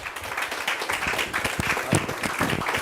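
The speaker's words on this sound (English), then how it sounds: "Please give him a big round of applause." Audience applause at a state-level panel discussion competition grand finale, dense continuous clapping with some louder individual claps, steady and close for the whole stretch.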